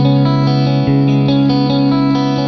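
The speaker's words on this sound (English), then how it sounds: "This is an old Strat with some Michael Landau signature pickups by Sir Guitars. I'm using the Band Commander amp model in my Axe FX3" Old Stratocaster fitted with Michael Landau signature pickups by Sir Guitars, played through an Axe FX3 Band Commander amp model with compression and reverb, ringing sustained clean chords at steady volume with soft strummed re-attacks.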